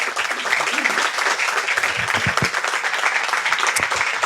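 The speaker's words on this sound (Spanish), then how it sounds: "quiero que deis un aplauso a... ¿Están todos? Emma Mussol, Rafael Barceló, Aleix Valverde y Lucas Mirbois" An audience at a talk with audio fiction scriptwriters breaks into loud, sustained applause, dense clapping that carries on for several seconds with a few whoops and voices mixed into the crowd noise.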